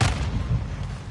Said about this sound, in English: Semtex incoming!